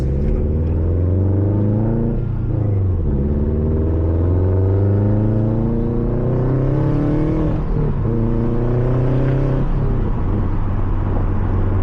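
A Subaru WRX tuned to 350 horsepower with a Tomei titanium exhaust, warmed up, gives a few short throttle blips over a loud steady idle rumble, each rising and falling quickly.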